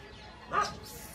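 A dog in a poor neighbourhood in India, where a goat is also kept, gives one short, muffled bark at a distance over faint outdoor background noise.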